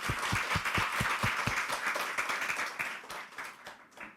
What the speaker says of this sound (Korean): 박수로 예수님 그냥 드리겠습니다.